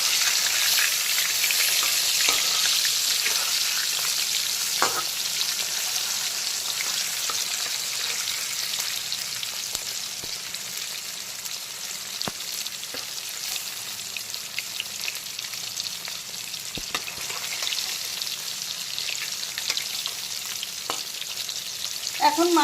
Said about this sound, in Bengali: এখন মাছের উল্টো দিকটাকেও একইভাবে ভালো করে ভেজে নেব।